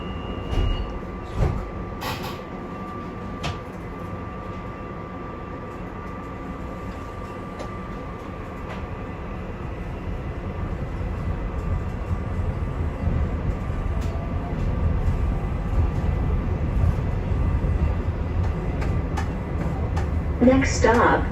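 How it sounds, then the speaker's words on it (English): A SEPTA train passes on the opposite track near the Link Belt siding, heard from aboard a moving SL5 railcar; a steady rumble of wheels builds louder toward the end, with brief door or coupler clatter early on. "there's some train coming at us on the other side of the link belt siding"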